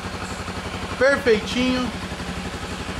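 A Honda CB 300 motorcycle engine runs at a steady idle after an overhaul, a close even pulsing thrum, with someone speaking briefly over it.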